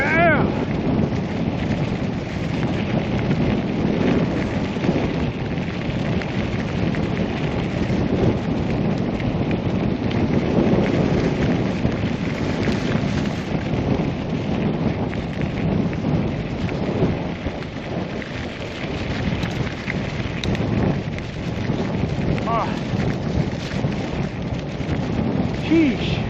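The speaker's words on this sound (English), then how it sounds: "now it's windy" Strong wind roars outdoors along a road in Denmark, a loud, continuous broadband rush buffeting the microphone for the whole stretch, with gusts swelling and easing.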